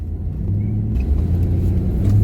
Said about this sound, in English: my car was started by the remote control